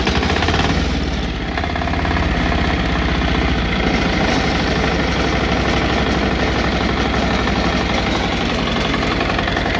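A BCS motor cultivator with a diesel engine and electric starter runs steadily and loudly nearby, a continuous low chugging throb that settles after a brief rev near the start, with no talk.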